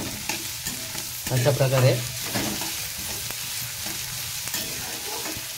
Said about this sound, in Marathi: कांदा पण चांगला फ्राय करून घ्यायचा आहे ब्राऊन होईपर्यंत